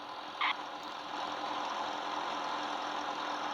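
A PAZ bus engine in the Simple Car Crash video game hums at a steady mid-pitched drone while driving slowly, with a brief beep-like tone near the start.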